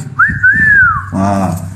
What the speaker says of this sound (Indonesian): Yang bersiul tadi siapa barusan?